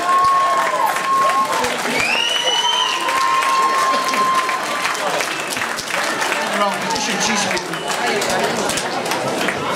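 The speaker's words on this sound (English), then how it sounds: "And a big round of applause for our other ladies." An audience applauds and cheers at a bodybuilding and fitness championship results ceremony, with dense steady clapping, some whistles, and crowd noise filling the whole stretch.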